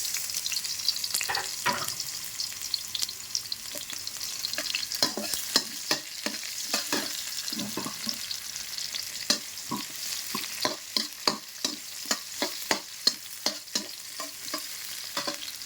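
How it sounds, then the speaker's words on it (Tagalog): Onions stirred as they fry in a pan for a Filipino chicken sinampalukan, with a steady soft sizzle under repeated sharp scrapes and clicks of the utensil, close and clear, with no talking. "And then, mix natin ang sibuyas."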